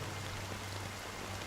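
Rain falls in a steady, even hiss with a soft patter, at moderate level with no voices.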